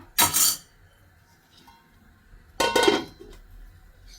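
Two short metallic clanks of a lid being set onto a pan of chicken roast gravy, the first near the start and a second heavier clatter partway through, with quiet between.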